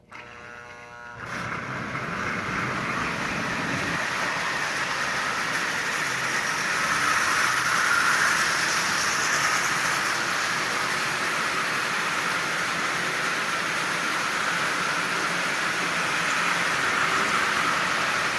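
An old Marx 490 toy locomotive with a micro motor pulls a string of 22 tin litho cars, giving a steady, continuous whirring rumble after a brief quieter start, running alone with no talk.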